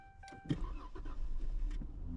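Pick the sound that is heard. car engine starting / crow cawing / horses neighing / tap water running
car engine starting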